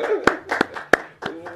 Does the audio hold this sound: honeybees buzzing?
no